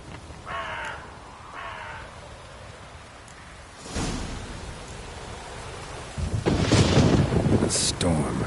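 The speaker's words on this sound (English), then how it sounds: "A storm, damn it." Thunder rumbles in a video game storm, a heavy roll swelling midway and a louder crash near the end over steady rain hiss, with a couple of short caw-like calls early on.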